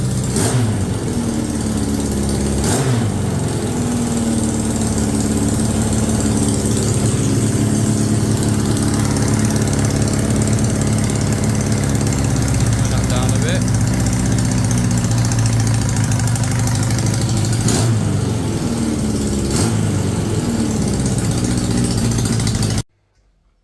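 A Yamaha XJ900 motorcycle engine idles steadily and loudly up close at first start-up after restoration, a low, even throbbing that runs unbroken until it cuts off at the very end.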